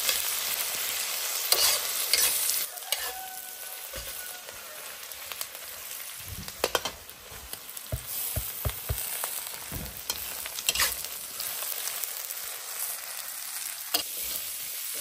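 River snails stir-fried with chili in a wok over a wood fire outdoors, a continuous bright sizzle with intermittent scrapes and knocks of a spatula, close by.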